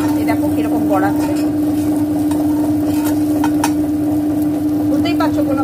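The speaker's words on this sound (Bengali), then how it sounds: "নিয়ে আমি ডিম আর রসুন লঙ্কা ভাজলাম, এটা মধুবন্তীকে দেবো" An egg fries with garlic and chilli in a nonstick pan, giving a constant close sizzle with scraping stir strokes over a steady low hum, and a voice briefly heard.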